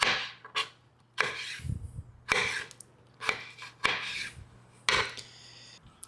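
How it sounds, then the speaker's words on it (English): Knife chopping peaches into cubes on a board, about seven crisp, evenly spaced cuts up close with short scraping sounds between them, no talk. "I'm gonna start chopping them into"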